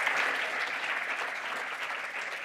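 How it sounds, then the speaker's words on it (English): Sustained applause from an audience at a luncheon, dense steady clapping at a moderate distance, continuing evenly for the whole stretch. "Please help me in giving a big round of applause to all of these brilliant doctors and"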